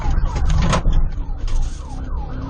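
Police car sirens wail during a high-speed chase of a stolen car in East Cleveland, rising and falling sweeps over the engine and road noise of a moving car, fairly close.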